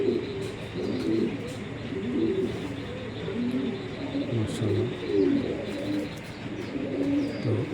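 Racing pigeons, including a black-checker hen, coo in low, soft, throaty murmurs that overlap continuously close by, with occasional faint chirps in the background.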